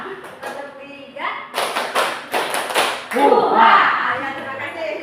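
A group claps a rhythmic pattern together at a school gathering, a few sharp bursts of hand claps in quick succession amid voices.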